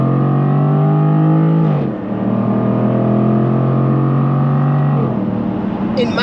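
A rear-wheel-drive Jaguar F-Type P450 engine pulls hard in manual mode, a loud close droning roar that climbs in pitch, drops sharply at a gear change near two seconds, climbs again and shifts once more near five seconds.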